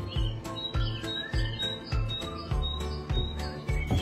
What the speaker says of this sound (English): She plays bird sounds in the kitty rooms.